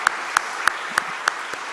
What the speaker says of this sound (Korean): 박수 한번 날까요?